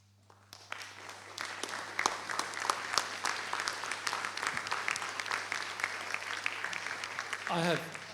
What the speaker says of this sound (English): I have no idea whether Laura could hear that applause or not